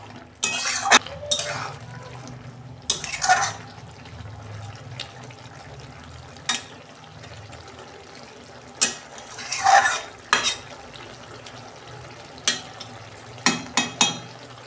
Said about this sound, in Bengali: আমার লাউ চিংড়ি হয়ে গেছে, আমি এবার ঢেলে ফেলছি